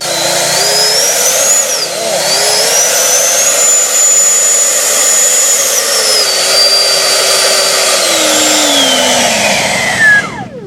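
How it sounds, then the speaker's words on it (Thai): A 70mm electric ducted fan with a 12-blade rotor on an FMS RC F-16 Falcon jet spools up into a loud, close whine, its pitch climbing and falling as the throttle moves, then cutting off at the end. "เดี๋ยวเราจะลองเร่งคันเร่งกันดูนะครับ แรงมากครับ"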